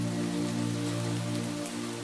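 Cartoon rain pouring steadily onto a surface, a dense, even hiss of drops with no pauses and no voices.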